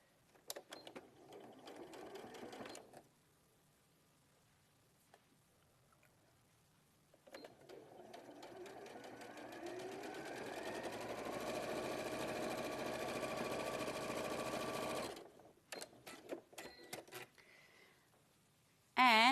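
A sewing machine topstitches a trouser cuff in two bursts, a short run and then a long, steady run of about eight seconds, close and clear, with quiet pauses and handling noises between them.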